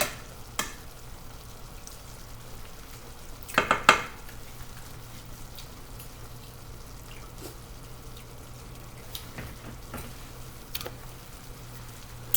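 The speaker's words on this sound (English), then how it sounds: "So now our black beans are starting to cook." Black beans cooking in a pan for nachos, a quiet low sizzle running under a few sharp utensil clinks and a brief cluster of scraping knocks, otherwise soft and steady.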